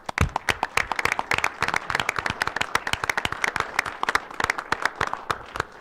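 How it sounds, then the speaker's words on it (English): Applause breaks out at a city council meeting: a room of people clapping together in a steady, dense patter for about six seconds, fairly loud and close, with no talking over it. "Let's give a round of applause for Chief Howard."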